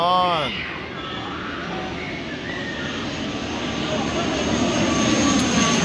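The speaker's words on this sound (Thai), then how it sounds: "นี่เครื่องบินบินผ่านเลยครับ" A fixed-wing airplane passes overhead near the airport on Koh Samui, its broad engine roar steady and swelling toward the end, with a brief voice at the start.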